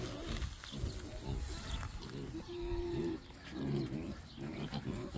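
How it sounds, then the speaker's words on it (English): Pigs in a barn at feeding time with hay and alfalfa, grunting and squealing close by in several bursts over a low barn background, with a faint voice at times. "these pigs are saying, give me some real hay."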